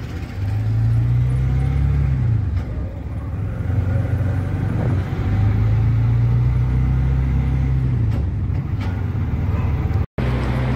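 Auto rickshaw riding at night, its small engine droning low and steady with rising and falling revs between gear changes, close and continuous, with no one speaking.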